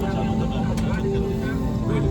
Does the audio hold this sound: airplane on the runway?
yes